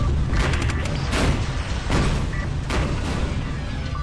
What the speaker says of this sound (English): Yes, big cannons.